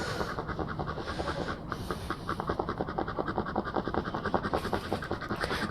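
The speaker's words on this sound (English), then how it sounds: "He's panting a bit from the hydro that we had given it as the part of the pre-med." A dog pants rapidly after a hydromorphone pre-medication at a veterinary clinic. The quick, rhythmic breaths are close and steady and carry on throughout, with faint rustling and scratching beneath.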